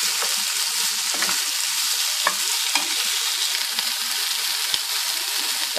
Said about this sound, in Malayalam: ഇളച്ചിക്കൊണ്ടിരിക്കുക തക്കാളി ഒന്ന് വാടിക്കഴിഞ്ഞാൽ അതിലേക്ക് മറ്റ് മസാലകൾ ചേർക്കാവുന്നതാണ്